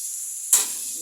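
Potatoes hit hot oil and sizzle, a sudden burst of hiss that settles into a steady, close frying crackle.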